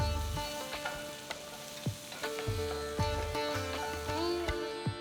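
Onions sizzle steadily in a hot pan with curry leaves, with a spatula scraping and stirring at intervals; no talking.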